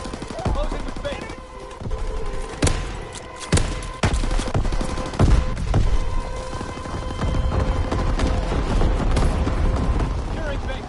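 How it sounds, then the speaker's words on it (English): Explosions from a carpet bombing run in a video game come as a dense barrage of booms and rattling blasts, loud and sustained over a low rumble, with a game announcer's voice heard at times. "Carpet bombing run inbound"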